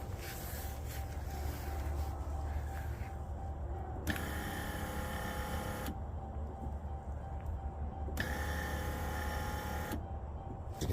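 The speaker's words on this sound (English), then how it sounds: "So we'll run 2 cycles of the wiper motor." A wiper motor on a 2016 Chrysler Town and Country runs two cycles, each a steady whirring buzz lasting about two seconds and separated by a pause, over a constant low background rumble with no talk.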